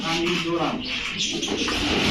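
Racer pigeons coo softly and repeatedly at close range, a running breeding pair among other birds, with a voice speaking over the cooing.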